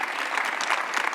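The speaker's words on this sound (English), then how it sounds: "Can we clap for them?" An audience at a panel discussion on women's economic power claps for the women panelists, a brief, dense burst of many hands with no voices over it.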